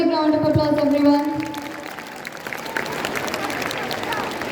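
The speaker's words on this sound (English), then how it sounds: "a big round of applause, everyone." An audience at a Christmas celebration honouring achievers breaks into applause, a steady wash of clapping rising after a brief stretch of talk and continuing to the end.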